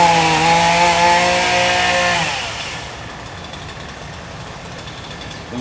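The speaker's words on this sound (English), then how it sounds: "we'll be using a freaking chainsaw to cut that tree down right there" A chainsaw runs close and loud at high revs for about two seconds while cutting a tree in the woods, then drops away to a low idle rumble.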